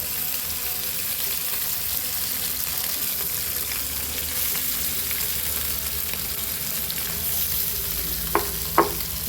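Steady sizzling of small ayirai fish frying in hot oil, continuous and close, with a couple of brief clinks near the end.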